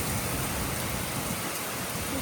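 Heavy rain and wind blowing rain onto a porch, pouring steadily with a dense, roaring hiss, wind gusting beneath it, loud and unbroken throughout.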